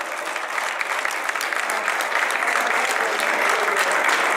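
Strong, steady audience applause at a round-table event of an international physical-education congress, a dense continuous wash of many hands clapping that holds level and close for the whole stretch, with no voices over it.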